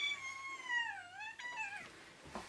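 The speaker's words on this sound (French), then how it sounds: "J'ai un chat là." A domestic cat meows several times in a home office, its drawn-out, bending cries rising and falling close to the microphone, with no talking over them.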